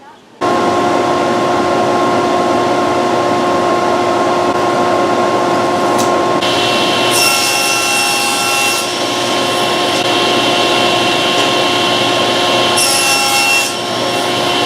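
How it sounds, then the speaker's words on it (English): Power saw cutting through a wooden board, trimming the snipe off the end and cutting it into smaller pieces; a steady, loud whine runs throughout with brief sharper bursts as the blade bites. "trim the snipe off the end of the board and cut it down into more manageable, workable pieces"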